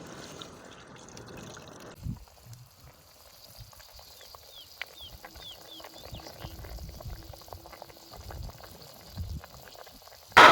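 Chicken simmers in plain water in a pot, giving a soft bubbling and faint crackle through the stretch, with a sudden louder clatter at the very end.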